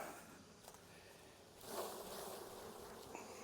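Honey bees from a summer swarm buzz softly around a hive frame as a faint, steady insect drone that swells briefly midway, with no talk.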